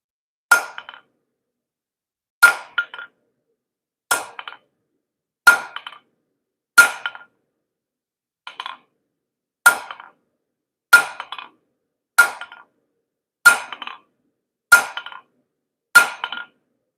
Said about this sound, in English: I could use my bigger hammer here